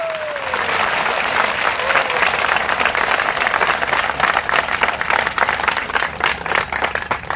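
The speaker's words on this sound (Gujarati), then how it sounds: "ખખડીને તાળી પાડો" Sustained crowd applause fills a political rally gathering in Lunawada, dense and loud throughout with a faint voice sliding in at the start.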